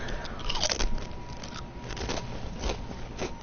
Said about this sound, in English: Sorry if you guys can hear me chewing. I'm kind of eating as I'm doing this.